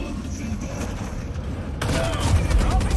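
Heavy machine gun fire in the game Helldivers 2, a dense, loud burst of gunfire and explosions that swells louder partway through, with voices under the din.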